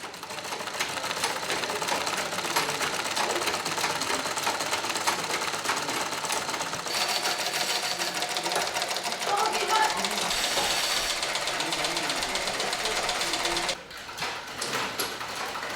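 Several sewing machines run nonstop in a sewing room at a village multipurpose centre in Africa, stitching children's school uniforms; a dense, steady mechanical whirring and rattling fills the room, fairly close, with a brief dip near the end.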